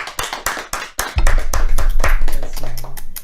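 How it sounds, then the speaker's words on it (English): Scattered hand claps from a small audience at a hackathon keynote, a few sharp claps in the first second before giving way to a low, steady rumble of room noise. "Let's just give him a massive round of applause"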